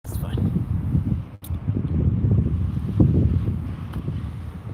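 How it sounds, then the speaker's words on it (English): Wind blows outdoors and buffets the microphone in a continuous low rumble, with a brief dropout partway through and faint voices in the background. "It's kind of windy."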